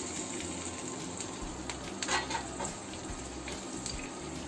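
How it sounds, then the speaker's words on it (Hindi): Okra (bhindi) frying in hot oil in a pan for a masala besan recipe: a steady, dense, hissing sizzle, close and even throughout, with no talking. "अब मेरा तेल गर्म हो गया है और भिंडी को डाल देती हूँ।"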